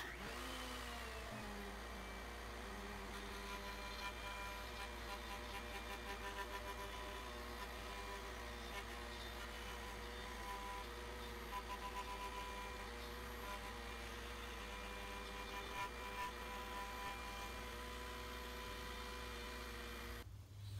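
Woodworking router cutting a mating surface into a wood veneer piece, a loud, continuous high-pitched motor whine with steady cutting drone running unbroken for about twenty seconds, no voices.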